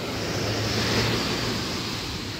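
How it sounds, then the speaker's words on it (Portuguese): Ocean waves washing onto a coarse-sand beach, a steady dense roar of surf with some wind, loud and continuous and without any voices. "a maré tá batendo"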